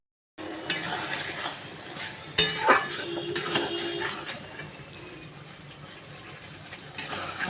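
Chicken gizzard curry with potato and onion being stirred in a pan, with a metal spoon scraping and clinking against the pan over a soft sizzle, close and intermittent.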